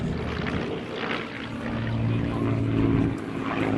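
A Supermarine Spitfire flies at the Classic Fighters Omaka airshow with a steady, broad engine roar that swells slightly as it passes, set against open-air background noise.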